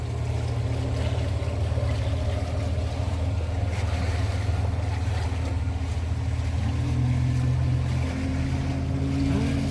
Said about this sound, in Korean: 아침 되니까 물고기 배가 계속 나가네 완전 뱃소리가 아주 그냥 여기는